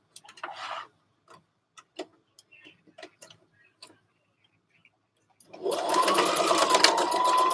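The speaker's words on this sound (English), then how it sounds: "I'm folding it in half and I'm sewing across here, I'm closing up the end of the band." Sewing machine stitching across the folded end of a fabric dress band, coming in loud and close after a few seconds of faint ticks and handling clicks, then running steadily to the end.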